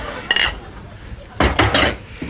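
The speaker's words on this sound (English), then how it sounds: "Just stir all these in." Sausages are stirred into a pan in a home kitchen: two quick clattering scrapes and clinks of a utensil against metal, close by, with brief quiet between them.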